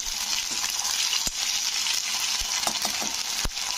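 Ginger garlic paste sizzles steadily as it fries in a pan, with a few sharp scraping clicks of a utensil stirring it.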